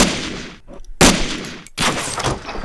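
Sniper rifle fire in a video game: two sharp, loud shots about three-quarters of a second apart, each cutting in after a brief lull, with dense, noisy gunfire-like clatter filling the rest of the clip and no voices.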